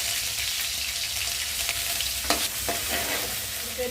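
Cloves and ginger garlic paste frying in oil for egg semiya upma, a continuous close sizzle with a low hum beneath and a few scraping stirs of the spoon.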